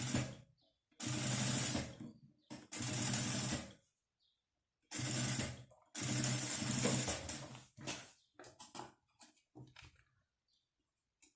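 A sewing machine stitching a stethoscope holder, running in several short close bursts separated by pauses, followed by light handling clicks.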